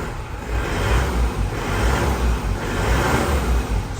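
A 2005 Isuzu Panther Grand Touring idles while heard from outside the car, with a loud steady low engine rumble and gentle swells in level, and nobody talking.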